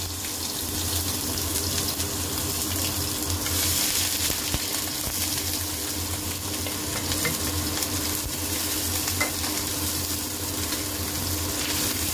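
Mustard seeds crackling in about half a spoon of hot oil for a bhindi tomato tadka, a dense continuous sizzle and spatter, close and steady for the whole stretch, with no voices.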